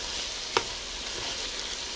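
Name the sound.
stir-frying squash, sweet potato and potato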